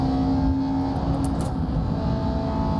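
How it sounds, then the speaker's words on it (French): Audi race car in the GRID Legends racing game pushing hard at steady high revs, a continuous loud engine drone with a sustained tonal whine, no gear changes or pauses. "L'Audi, elle donne tout ce qu'elle peut."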